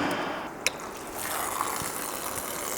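Coolant drains from the opened lower radiator drain valve of a VW 1.8T engine, a steady liquid gush with a sharp click as the valve releases.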